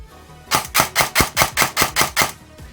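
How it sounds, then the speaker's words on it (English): Electric airsoft gun set up for high speed with a long barrel fires a rapid burst of about nine shots, each with the whirring buzz of the motor and gearbox bushings, close and evenly spaced. "That's the sound of those bushings in that gearbox."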